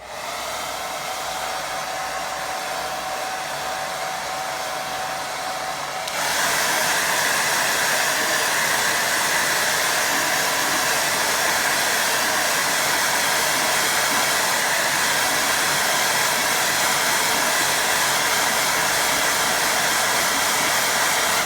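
A hair dryer blows steadily on a watercolour painting, a loud continuous whirring rush that steps up to a higher, stronger setting partway through and runs on without talk.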